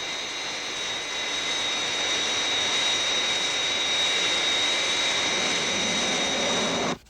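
The Fireflash airliner from Thunderbirds approaches on final, a steady roaring jet drone with a high whine that holds for about seven seconds before cutting off abruptly.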